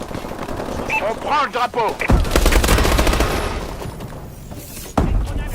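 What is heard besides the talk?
gunfire from a video game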